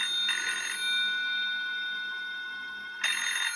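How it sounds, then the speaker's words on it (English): A phone rings with an electronic trill, two short bursts separated by a pause, fairly close and clear over a faint background hum. "It's ringing from the cup."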